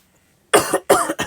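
Three sharp, harsh coughs in quick succession follow a brief silence, loud and close.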